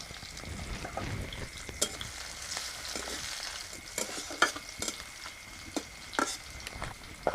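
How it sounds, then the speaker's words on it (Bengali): Whole cumin, chopped onion and green chilli fry in hot oil, giving a quiet, continuous sizzle broken by sharp scrapes and clicks of stirring at irregular intervals. "তেলটা গরম হয়েছে দিচ্ছি জিরে গোটা জিরে এসে পেঁয়াজ কুচি কাঁচা লঙ্কা কুচি"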